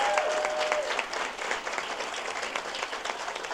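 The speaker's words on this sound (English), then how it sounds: "Let's give them a big round of applause." An audience at a school district honor roll event claps for honored teachers, including a middle school Teacher of the Year, with full, sustained applause from a crowd throughout.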